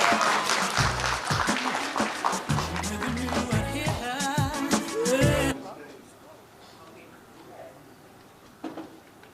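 An audience cheers and applauds for debutantes at a curvy fashion showcase. The crowd noise is loud and lively over music and voices for about five seconds, then cuts off and leaves a quiet room.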